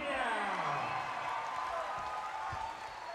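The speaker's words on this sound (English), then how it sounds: "The crowd going wild" A boxing arena crowd at a professional six-round bout cheers and applauds in a steady wash of noise, moderately loud and continuous, with a ringside commentator talking over it.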